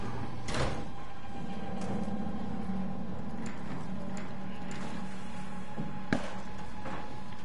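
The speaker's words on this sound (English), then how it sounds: "Then I'm gonna open this door." A door in the sci-fi horror video game SOMA grinds and slides open, with mechanical clanks and ticks, a sharp bang near the start and another near the end, all over a low ambient hum.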